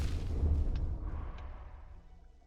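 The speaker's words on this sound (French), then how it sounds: "Par contre, les grosses explosions," Big explosions in the video game Hollow Knight, heard as a loud, booming low rumble with crackling bursts that slowly fade over a couple of seconds.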